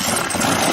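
A motorcycle engine with a stuck throttle runs on, a loud continuous droning rumble close by, with no talk.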